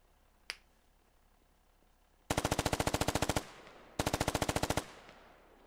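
Machine-gun fire in the video game Operation: Deadlock arrives as two loud, rapid bursts of evenly spaced shots, each about a second long with a short gap between, after a single faint snap earlier.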